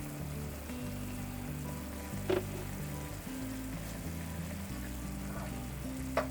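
Pork, kimchi, gochugaru and garlic stir-fry in a pan, giving a soft, steady sizzle with a couple of brief utensil taps, faint and close, under a low hum with no talking.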